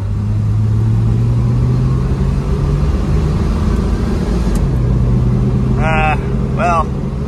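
A Slant Six Mopar engine with a rebuilt Holley 1920 carburetor idles steadily at a low, even rumble throughout, with a brief chirping squeak near the end.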